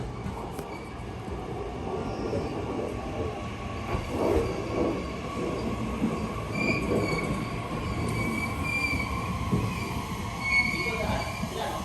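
A train rolls through JR Nate Station in Wakayama, Japan, its wheels rumbling and squealing faintly at a steady, moderate distance for the whole stretch.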